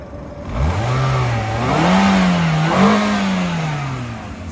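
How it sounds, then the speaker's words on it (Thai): A 2016 Toyota Yaris engine revs up from idle, climbing in pitch, dipping, then surging again before easing off; close and loud, no talk. "มาเดี๋ยวเราฟังเสียงเครื่องยนต์กันหน่อย"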